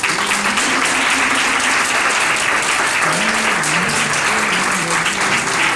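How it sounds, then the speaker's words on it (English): Wedding guests applaud together in a steady, dense round of clapping that fills the room at a constant level, with no breaks from start to finish. "So I would like to ask Carolina, Gwendolyn to stand up, and everybody to give them a round of applause,"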